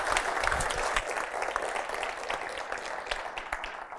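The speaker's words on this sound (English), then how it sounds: "A round of applause." A conference audience at a science foundation event claps steadily, a dense wash of applause that holds at an even level throughout and tapers slightly toward the end.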